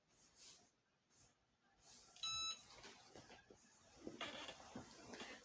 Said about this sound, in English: it'll beep to let you know that it's done.